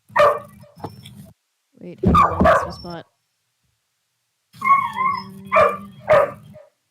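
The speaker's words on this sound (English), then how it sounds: "I'm gonna close that window because the dog is really loud." A dog barks loudly through an open window while someone reads aloud on a book-reading stream; the barks come in bursts under and between the talking.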